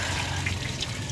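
Coolant water gushing from an Isuzu NPR 4HL1 diesel engine while the water pump is removed, a steady close rushing splash that runs unbroken throughout.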